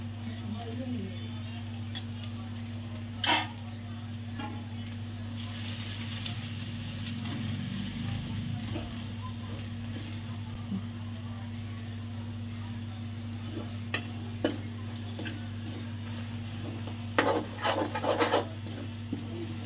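A spoon rubs and scrapes through gram flour roasting with ginger-chilli-garlic paste in a pan over a low sizzle, with occasional metallic taps and brief voices nearby.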